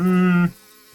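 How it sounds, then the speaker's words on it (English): Buzzing bees in Return to Monkey Island, a loud steady harmonic drone for about half a second that cuts off abruptly, leaving a faint low hum. "Sneak past the bees and heed the sign."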